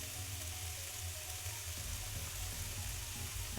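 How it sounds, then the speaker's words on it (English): Onion and garlic frying in a pan with a sausage link, giving a steady close sizzle with faint stirring clicks and no talk. "That nice sizzle."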